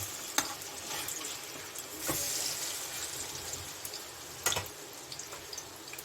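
Stuffed jackfruit pakoras frying in oil, a steady soft sizzle with a few sharp clicks and taps as the fritters are turned over.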